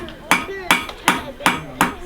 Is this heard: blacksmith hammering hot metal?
yes